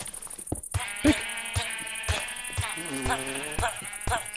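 A sheep bleats in a Minecraft lucky-block session, a wavering bleat over a steady high electronic buzz and repeated short clicks of game sounds, with a voice talking over parts of it.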